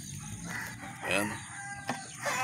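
Backyard chickens cluck close by while a rooster crows partway through, with the crow rising clearly over the clucking before fading as the birds keep calling.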